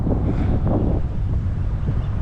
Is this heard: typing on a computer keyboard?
no